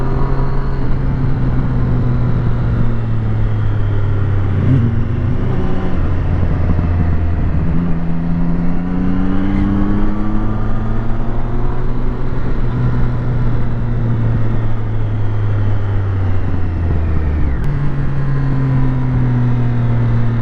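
A car engine revs up and settles back repeatedly on a quick run out, rising and falling drones with burbling exhaust, loud and close throughout with no talk.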